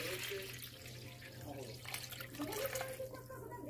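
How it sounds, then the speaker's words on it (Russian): A liter of water pours steadily into a bowl while brine is prepared for salted green tomatoes, a soft continuous splashing trickle heard up close under a speaking voice. "Этот литр сейчас я наливаю в миску."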